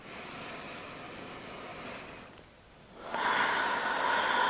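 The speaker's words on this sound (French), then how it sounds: "je me recentre et je m'aligne par la respiration. Donc j'inspire," Slow, deep breaths during a grounding exercise: a long airy exhale fades to a brief pause, then a stronger, louder inhale rushes in, close to the microphone.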